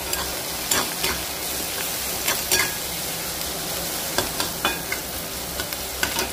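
Onions frying in a pan for chole masala curry give a loud, steady sizzle, broken by irregular scrapes and clinks of a spoon stirring against the pan.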